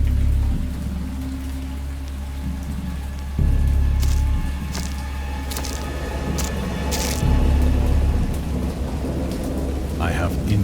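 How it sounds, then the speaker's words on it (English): Heavy rain falls steadily through a thunderstorm at sea, with deep low rumbles of thunder rolling in and swelling over the downpour, loud and close throughout. "I have indistinct recollections of a great storm sometime after I reached the boat."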